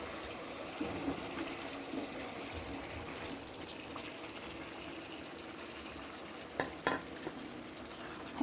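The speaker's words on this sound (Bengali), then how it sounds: "এখন মশলার সাথে খুব ভালোভাবে চেড়ে মিশিয়ে দিতে হবে" Steady sizzling of raw jackfruit being stirred into frying masala in a pan, soft stirring scrapes, a few sharper clinks near the end; no voices.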